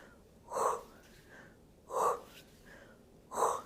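Three forceful, breathy exhales come at an even pace, a little over a second apart, during an intermediate Pilates exercise. Each is a short, close puff with quiet pauses between.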